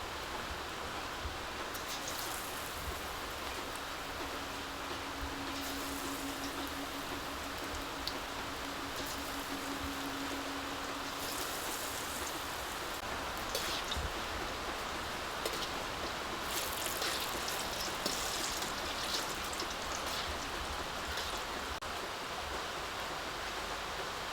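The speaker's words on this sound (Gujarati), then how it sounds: "આ વરસાદ શરૂ છે" Steady rain falls outdoors during monsoon weather while chilli and onion bhajiyas are being fried, a continuous even hiss that holds through the whole stretch and swells slightly near the end.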